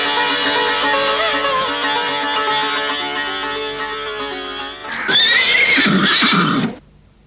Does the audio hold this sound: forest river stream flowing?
no